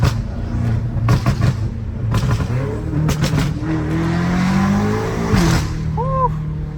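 A straight-piped BMW M5 Competition drives and revs hard, loud, close engine tones climbing and falling through repeated throttle blips and gear changes, with brief voices faintly mixed in.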